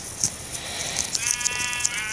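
Sheep in Minecraft bleat several times in quick succession, short nasal calls sounding close and fairly clear against a faint background.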